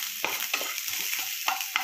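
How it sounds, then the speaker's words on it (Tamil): Coriander seeds dry roasting in a pan, a soft steady hiss broken by a few quick scraping stirs, faint and close. "முதல்ல மல்லியை வறுத்து எடுத்துக்கலாம்."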